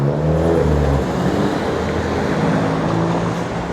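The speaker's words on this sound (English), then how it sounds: "So it's very busy down here with traffic on the quayside." Busy road traffic on the Newcastle quayside, a loud continuous engine rumble with a vehicle droning close at first, then passing cars and tyre noise blending into a steady roar.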